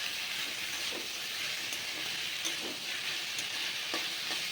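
Ingredients fry in a pan with a constant, soft sizzling hiss, broken by occasional light scrapes and taps of stirring.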